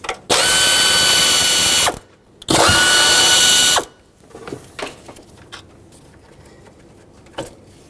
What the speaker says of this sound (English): let's unbolt this solenoid